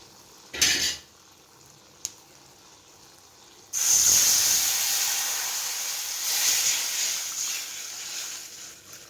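A short clatter of cookware, then a loud, sustained sizzling hiss as tamarind water hits a hot pan for fenugreek-leaf sambar, gradually settling into a steady bubbling sizzle.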